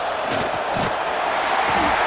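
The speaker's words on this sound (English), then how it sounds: "Listen to this crowd just shaking the girders of this place, trying to help their defense." A stadium crowd roars loudly in the College Football 26 video game during a simulated Oklahoma at South Carolina matchup, a dense, continuous wash of noise with brief surges, under no clear talk.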